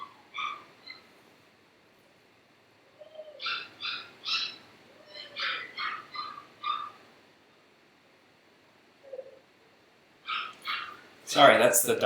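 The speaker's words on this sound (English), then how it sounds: "Sorry, that's the dog." A dog whimpering and giving short yelping barks in a quiet room, bursts of high cries clustered in the middle and end with silences between, the last burst loudest and closest.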